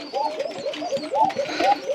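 Pigeons on a farm coo in repeated soft, throaty rolling calls, several birds overlapping closely in a steady rhythm.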